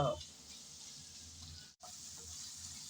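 Dried loitta shutki fish being stirred and fried in a pan, a steady close sizzle with scraping of the stirring spoon that fades briefly before picking up again.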